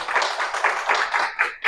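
Audience applause at a mathematics seminar, a burst of rapid hand claps from a seated crowd, steady and fairly close, lasting under two seconds.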